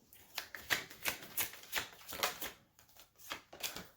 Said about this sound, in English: I'm going to continue shuffling.